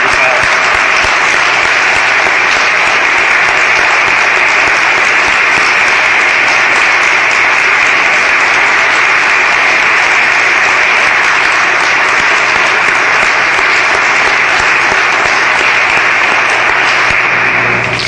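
An audience at the dedication of the Charles Young Buffalo Soldiers National Monument claps in a loud, dense, sustained round of applause that holds steady from start to finish.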